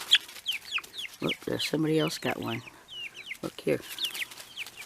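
Chickens cluck and squawk close by in a busy flock fighting over roast beef, with a rooster among them and a person speaking briefly.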